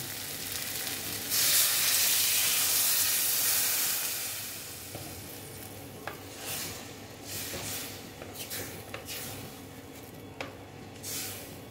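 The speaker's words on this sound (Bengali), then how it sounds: "দেখো দেখো এখন আমি জল অ্যাড করে দিচ্ছি।" Water poured into a hot pan of aloo dum sets off a loud burst of sizzling and hissing up close, then settles into a steadier fry with scattered pops and crackles.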